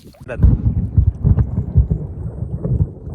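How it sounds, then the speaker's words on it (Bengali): Thunder rumbles close by in a rainstorm while people fish on a river, with deep rolling booms and crackles over a short stretch. "খুবই ভয়ঙ্কর বজ্রপাতের শব্দ"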